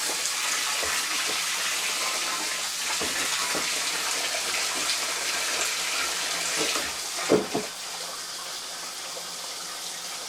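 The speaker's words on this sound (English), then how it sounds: "Now we're going to put this on soaker mode and fill her up." A hot water tap runs steadily, filling a bucket feeder for bees through a soaker-mode nozzle: a continuous broadband gush lasting the whole stretch, with a couple of brief splashy thumps near the end.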